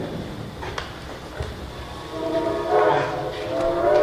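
A stage sound effect of a train passing in a theater production, a faint distant rumble that swells toward the end with a horn-like tonal sound rising above it, heard at a low level.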